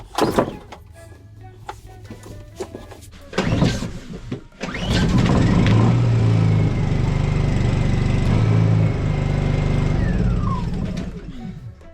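Small petrol engine on a Dutch barge, cranked with gas, electric and choke on after about a year unused, gives a few brief cranking bursts and then catches, settling into a loud steady run that fades out near the end.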